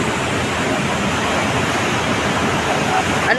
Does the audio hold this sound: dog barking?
no